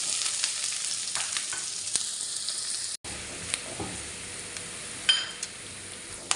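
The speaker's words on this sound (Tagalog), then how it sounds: "Lagyan na po natin ng cooking oil. Lagyan na po natin yung sibuyas." Onions sizzle and fry in hot cooking oil for egg shakshuka, a steady close hiss with occasional stirring clinks, a brief break midway, then frying resumes.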